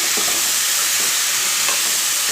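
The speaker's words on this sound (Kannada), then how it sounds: "ಈರುಳ್ಳಿ ಇದೆಲ್ಲ ಚೆನ್ನಾಗಿ ಮಿಕ್ಸ್ ಮಾಡ್ಕೊತೀನಿ" Onions being stirred in a pan for a village-style sweet pumpkin stir-fry curry, with a steady broadband sizzle and soft intermittent scraping, no talk.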